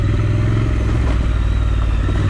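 A motorcycle rides along with a steady, loud engine drone and road rumble, heard close up and continuous throughout, with no talk.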